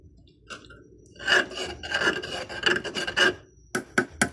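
Close rasping scrapes of a spoon against a pot bottom while stirring boiling ginataang monggo, in short repeated strokes, then a few quick sharp scrapes at the end.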